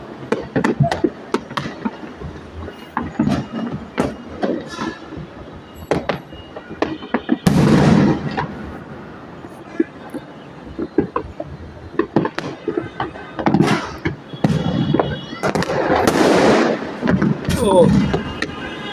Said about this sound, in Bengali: প্রত্যেক বাসার ছাদ থেকে ফোটানো হচ্ছে আতশবাজি।